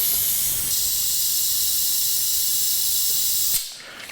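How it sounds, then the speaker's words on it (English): Steady, loud hiss of brake fluid escaping an opened bleeder valve on a Harley-Davidson's ABS brake system, running continuously for several seconds before cutting off abruptly near the end. "I'm going to break the bleeder valve open, pull a little more fluid through the system just to get a fresh bleed on it"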